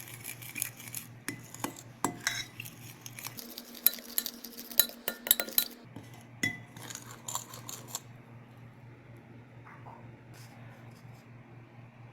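A utensil clinks and scrapes against a bowl while chilli powder, turmeric, garam masala and asafoetida are stirred into egg for cauliflower fry, with close, quiet, irregular taps that thin out toward the end.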